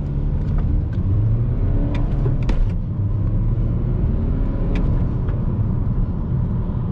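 A 2008-style BMW 320d E92 coupe with a 177 hp diesel and six-speed manual pulls hard through city streets, its engine droning loud and steady with road rumble throughout.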